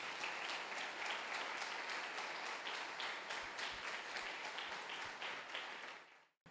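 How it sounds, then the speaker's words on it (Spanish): A church congregation at a Sunday service claps together, a steady, busy patter of many hands lasting about six seconds before cutting off abruptly. "Dele un aplauso al Señor,"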